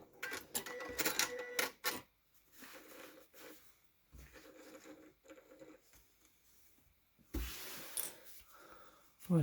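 A domestic sewing machine stitches through fabric for a multi-purpose storage organizer, running in short clattering bursts with pauses between them, moderately close and fairly quiet.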